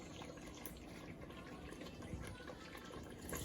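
Palm cream being poured into a pot of palm nut soup, a steady low liquid pouring and trickling sound that continues without pause for the whole stretch, close and moderately quiet, with no talking.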